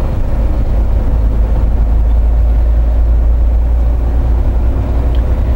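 A pickup truck driving at about 60 miles an hour on a highway, a steady loud low engine and road rumble with wind noise, continuous and unbroken.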